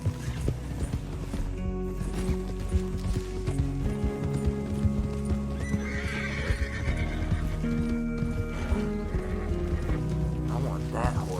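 A horse in a video game whinnies and clip-clops with its hooves, loud and close, over steady background music with some mechanical clicking.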